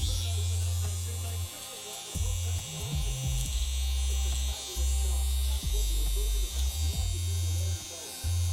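An electric trimmer buzzing through hair during a mid skin fade at a barber shop, a close steady motor drone that cuts in and out in short passes, with a voice talking over it.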